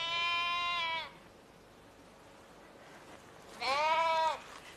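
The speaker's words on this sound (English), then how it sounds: "the sheep have had their lambs, so there are lots of lambs too" Two loud, wavering bleats from sheep and lambs on a sheep farm in Wales sound close by, separated by a quiet pause.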